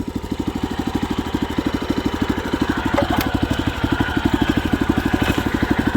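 A rented walking cultivator engine runs steadily at idle, a close, loud, rapid low putter with even regular pulses throughout and no speech.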